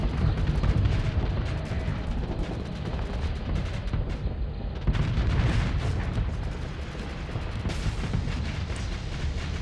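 Ion cannons firing and explosions in the Starsector space combat game: a dense, continuous rumble of booming blasts and bursts, loud and sustained without pause and with no talk over it.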